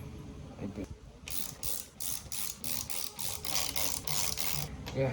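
A ratchet clicks away in quick repeated bursts while removing the brake caliper bolts on a Hunter 350 motorcycle during a front and rear brake pad change, close and fairly loud over a low background hum.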